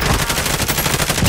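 Rapid automatic gunfire in a shooter video game, a dense, loud stream of quick shots rattling continuously, with no voices over it.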